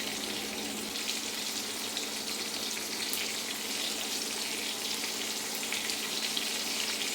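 Prawns frying in a pan and turned partway through, giving a steady, dense sizzle that runs unbroken at an even level, with no voices.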